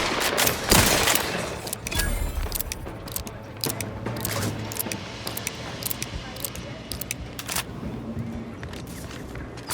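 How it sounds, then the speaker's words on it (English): Rapid bursts of syringe-gun fire in The Outer Worlds 2, dense and clattering through most of the stretch, with game noise and occasional voices underneath. "Firing medical syringes"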